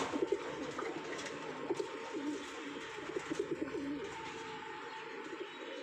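Pigeons coo in low, repeated throaty bursts at close range, several birds overlapping softly against a quiet background.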